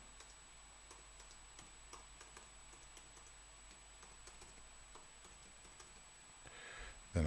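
A password is typed on a Mac keyboard: a string of quiet, quick key clicks in an otherwise still room, ending in a short louder burst of noise.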